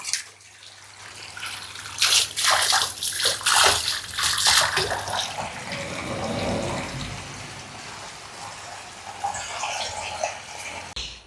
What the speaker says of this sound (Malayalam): ടാങ്കിൽ നമ്മൾ ഇപ്പോൾ വെള്ളം നിറച്ചിട്ടിട്ടുണ്ട്